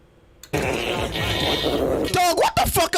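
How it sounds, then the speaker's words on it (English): Loud, close, buzzy farting sounds built into a played song, one long sustained blast followed by sputtering bursts, with a voice coming in over the end. "That's some disrespectful ass farting."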